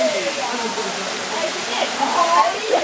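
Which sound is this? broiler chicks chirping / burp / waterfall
waterfall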